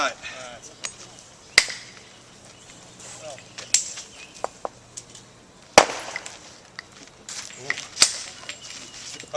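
Hard hammerstone striking a flint core during flint knapping: a few sharp, loud, cracking impacts spaced several seconds apart, with someone talking between the blows.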